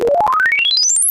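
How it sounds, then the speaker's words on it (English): A synthesizer tone sweeps steadily upward from low to very high pitch in about a second, a loud, clean rising glide with no other sound. "if you sweep a synthesizer tone across the range, you get a sound like this."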